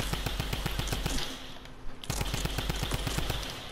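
Typewriter weapon in the video game Fortnite Save the World firing a rapid, evenly spaced stream of rattling shots, with a short pause midway before the burst resumes.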